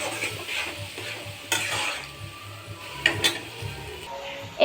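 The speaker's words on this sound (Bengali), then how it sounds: "এবার মশলাটা একটু নাড়িয়ে চাড়িয়ে কষতে থাকবো।" Spice paste scraped and stirred through browned onions in a pan for an egg curry with sour yogurt, with a few irregular spoon scrapes and bumps over a soft, steady frying sizzle and a low background hum.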